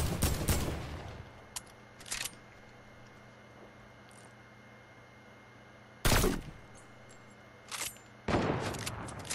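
Sniper rifle shots in Fortnite, a handful of sharp isolated cracks spaced several seconds apart over a quiet background, one especially loud near the middle.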